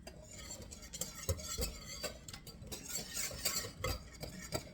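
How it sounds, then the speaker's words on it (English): A whisk beats macaroni salad dressing in a bowl, with quick uneven scraping and clinking against the sides, close and fairly quiet. "Mix this as much as you can without any lumps."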